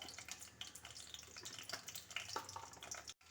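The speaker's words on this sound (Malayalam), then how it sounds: "ഇനി ഇതിലേക്ക് കടുവ് ഇട്ട് കൊടുക്കാം" Mustard seeds sizzle and crackle in hot oil in a pan, a faint, steady frying hiss with small pops and no talking.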